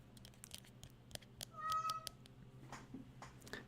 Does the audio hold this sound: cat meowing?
yes